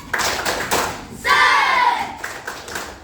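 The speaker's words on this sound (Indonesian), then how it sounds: "kakak punya tepuk, namanya tepuk semangat" Children clap out the 'tepuk semangat' rhythm in a classroom lesson, a few quick hand claps at the start, then a voice cuts in and more scattered claps follow.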